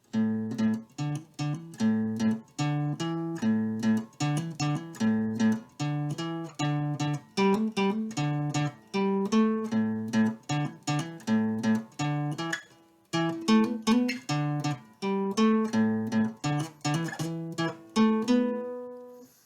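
A repeating bass-and-chord pattern played steadily over a 12-bar blues progression, with evenly spaced plucked notes and no voices.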